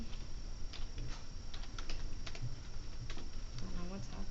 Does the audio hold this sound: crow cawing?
no